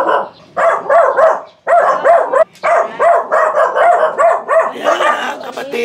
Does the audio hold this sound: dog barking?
yes